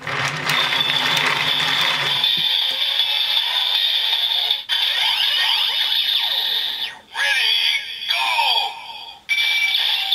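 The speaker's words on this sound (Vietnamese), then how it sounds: "đó là tất cả các âm thanh của Harinezumi bottle khi không ở dạng best match" A DX Drill Crusher toy from Kamen Rider Build with a Harinezumi bottle inserted plays loud electronic sound effects: a busy synthetic burst, then shrill bleeping tones and zipping sweeps, with brief gaps between segments.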